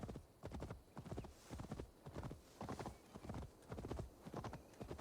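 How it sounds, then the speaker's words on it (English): Steady, rhythmic hoofbeats of a battle pig being ridden in Assassin's Creed Valhalla, a close galloping clatter repeating evenly throughout with no talk over it. "Riding a pig into combat."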